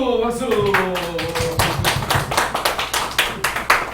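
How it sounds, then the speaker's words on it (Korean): A church congregation claps to welcome a deacon forward, a few loud close claps at first that grow into rapid, dense clapping and keep going strongly to the end. "박수!"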